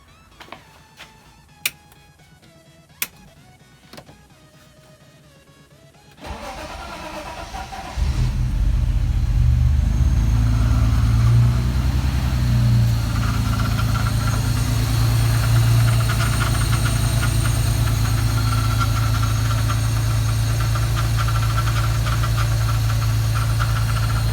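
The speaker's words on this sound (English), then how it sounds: "So everything started up fine, no major issues." A 2001 BMW E46 fitted with an Active Autowerke supercharger cranks over after a few faint clicks, fires up and settles into a loud, steady running idle close by.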